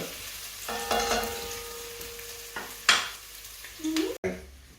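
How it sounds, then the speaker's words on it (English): Onions sizzle steadily in a pan for a chicken curry while a utensil stirs and scrapes, with a few sharp clinks of metal against the pan. "The onions are frying quite nicely"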